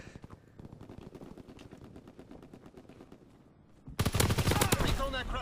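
Rapid automatic fire from a WW2-era gun in Call of Duty: WWII, fast, evenly spaced shots rattling steadily at moderate volume, then a sudden loud, dense blast of gunfire and explosion noise at the end.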